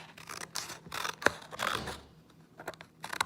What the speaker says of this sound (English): we're going to take our scissors and we're going to cut from the folded edge